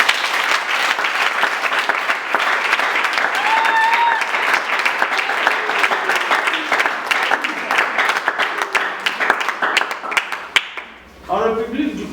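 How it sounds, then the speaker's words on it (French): Guests applaud a couple at a civil wedding ceremony in the Republic of Congo, a dense, sustained round of clapping that fills about eleven seconds before cutting off, with a voice heard briefly at the end. "aidez-moi à les applaudir très fort"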